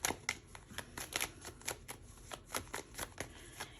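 A deck of animal spirit oracle cards being shuffled, with repeated soft riffling bursts at a steady rhythm, close and fairly quiet, no voices.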